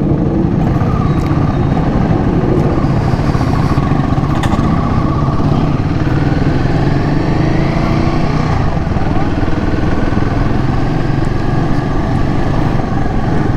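A Royal Enfield Himalayan 450 motorcycle riding over undulating road, its engine a steady, loud, continuous drone with rumbling low tones and wind noise throughout, no voices.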